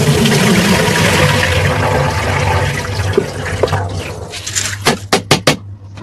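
Wheat grains washed by hand in water for traditional kurdai: a steady rushing, sloshing wash that fades toward the end into a few sharp, separate splashes and clatters.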